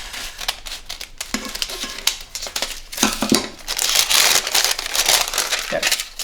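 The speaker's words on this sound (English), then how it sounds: "I'm folding up my parchment to cut into a circle." Parchment paper being folded and cut into a circle with scissors for a cheesecake crust, loud close crinkling and rustling with sharp snipping crunches, building busier toward the end.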